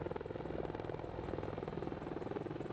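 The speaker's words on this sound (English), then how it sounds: "Apache helicopters that arrived recently at the Hunter Airfield, Georgia, August 23." AH-64E Apache helicopter at Hunter Airfield, Georgia: a steady, rapid rotor thump with a droning engine tone, continuous and fairly distant, no speech.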